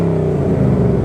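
Ford Mustang Bullitt, 2019, exhaust in sport mode: a loud, close engine drone rising slightly as it revs, deep and continuous, a little louder than normal mode, with no voices.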